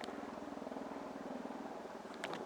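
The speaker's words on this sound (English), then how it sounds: "Is this a helicopter?" A helicopter passing over trees gives a faint, distant rhythmic chopping thrum beneath broad background noise, steady for the whole moment.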